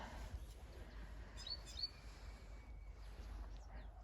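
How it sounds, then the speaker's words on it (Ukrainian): A few faint, high bird chirps come from a distance over a steady low outdoor rumble of a mountain river in a winter forest, brief and scattered. "Пташки."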